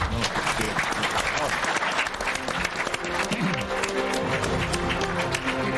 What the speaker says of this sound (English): I suggest you give the panel and yourselves a final round of applause